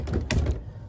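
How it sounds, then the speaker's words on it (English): An indoor door swings shut at midnight with a short muffled thunk and a brief rattle, a close, heavy knock that dies away within a second. "Close door."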